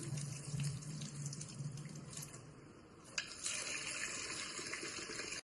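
Running tap water splashes steadily as mung dal is rinsed in a kitchen, a continuous close hiss and patter with a brief clatter partway through, no voices.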